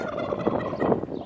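Turkeys gobble in a barnyard, a quick rattling burst of several close, loud gobbles overlapping in one brief flurry.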